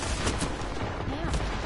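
Continuous gunfire in the sci-fi shooter Destiny during a Trials match, a steady, dense wash of shots and impacts with no clear pauses, running under faint talk.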